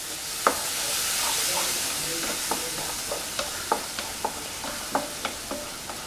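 Salt and turmeric stirred into a hot pan for a chicken masala fry, with a steady sizzle under a series of sharp spoon scrapes and clicks at an irregular rhythm, close and moderately loud, no talking.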